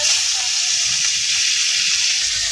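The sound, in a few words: dried fish and onion frying in oil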